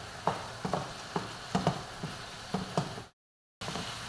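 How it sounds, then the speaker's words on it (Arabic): Canned tomato with mushrooms, onion and chicken fries in a pan, a steady close sizzle broken by regular scraping strokes of a spoon stirring, with a brief dropout near the end and no talking. "نقليو هذيك الطماطم معاهم"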